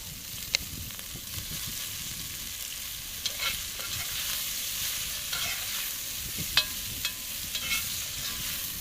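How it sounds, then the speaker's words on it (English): Onions and spring onion fry in a pan with rendered meat fat, giving a steady sizzle with occasional scraping clicks of stirring, close and moderately loud, no voices. "So I'm going to go in with the onions and a bit of spring onion."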